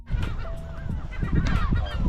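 Loud, repeated honking calls from an endangered wild bird on a large island sanctuary off the Irish coast, close by, several birds overlapping with no speech.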